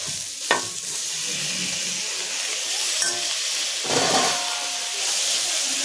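Tomatoes go into a pan of frying bitter gourd (boda kakarakaya) and start a steady, close sizzle and hiss, with a few sharp scraping stirs against the pan.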